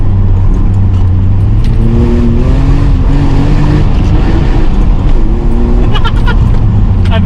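A BMW 525i E34 accelerates hard while driving alongside an Audi S3, its engine note rising in loud, steady pitch sweeps under a constant roar of road and wind noise.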